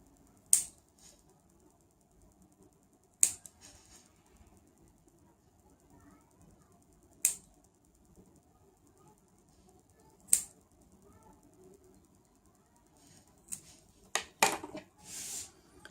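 Scissors snip hair for a Scottish roll hairstyle, a few sharp, isolated close clicks spaced several seconds apart over quiet background, with a quicker cluster of cuts near the end.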